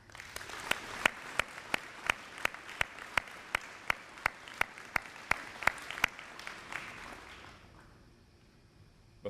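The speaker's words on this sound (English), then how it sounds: "Ladies and gentlemen, please give a round of applause to these distinguished careers and the 2" Applause at an army change of command ceremony, slow, distinct claps spaced steadily in a large open space, then tapering into quiet.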